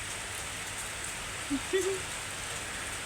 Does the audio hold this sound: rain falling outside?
yes